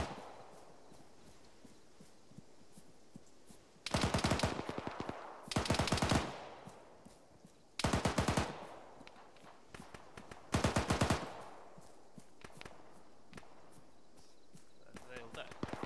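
Machine gun fire in the video game Arma 3 rattles in four or five sharp, loud bursts a second or two long, separated by quieter stretches of faint ambience.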